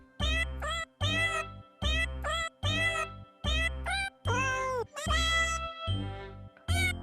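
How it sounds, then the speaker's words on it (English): Auto-tuned cat meows set to a theme-song melody, a string of about eight short, pitched meow notes in a steady rhythm, the later ones longer and sliding, loud and close with no talk. "it's just like a cat that meows, and then they auto-tune the meows"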